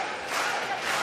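Boxing crowd during a women's bout, a loud swelling roar of cheering and shouting that rises midway, with little talk.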